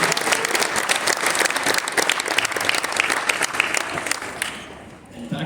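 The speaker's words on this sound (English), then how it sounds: "can we just get a big round of applause" An audience at a high school athletic awards night breaks into a big round of applause, loud and dense clapping that holds steady for several seconds before fading, with a few voices mixed in.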